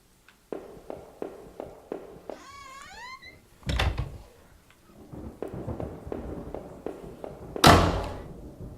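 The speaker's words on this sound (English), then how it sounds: "What was that? Sounded like a gunshot." A sharp, gunshot-like bang rings out in a horror video game, loud and sudden near the end, following rhythmic thudding footsteps, a warbling tone and another heavy impact earlier on.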